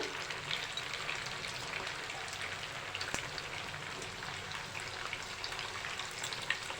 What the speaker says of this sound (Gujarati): હવે આપણે બોલ્સને તેલમાં મૂકી દઈશું ગેસની ફ્લેમ મીડિયમ રાખવાની છે